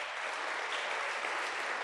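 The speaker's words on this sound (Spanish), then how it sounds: "Le podemos dar un fuerte aplauso a nuestro grupo de alabanza" A church congregation gives its worship band a strong round of applause: dense, steady clapping from a crowd that fills the room evenly, with no single clap standing out.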